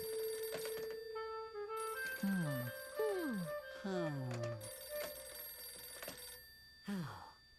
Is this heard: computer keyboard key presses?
no